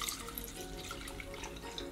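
A mixture of hot water and laundry detergent being poured into a container holding slime masks, a soft continuous splashing trickle that sounds faint and close.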